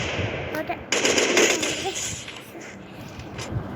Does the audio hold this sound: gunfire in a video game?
yes